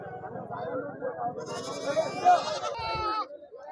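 Goats bleat loudly and close by at the Dubbaka weekly market, overlapping with people talking in the background.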